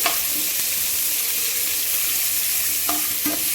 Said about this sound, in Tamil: வெங்காயம் நல்லா பொன்னரம் ஆகிற வரைக்கும் நல்லா வதக்கணும்